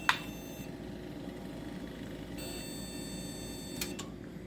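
An old computer sounds POST beeps during startup to signal a memory fault. A sharp short beep opens, then a long electronic tone and a further brief beep follow over a steady fan hum.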